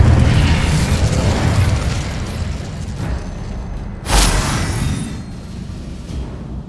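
An Incendio fire spell going off in Hogwarts Legacy, a dense roaring burst over a rumbling game soundscape with a sharper blast swelling partway through, loud and close.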